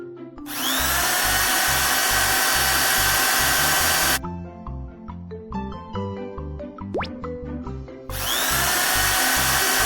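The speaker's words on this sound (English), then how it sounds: "Install drills." A drill on a toy engineering excavator built for foundation piling whirs loudly in two sustained bursts, separated by a quieter stretch of scattered tonal sounds and clatter.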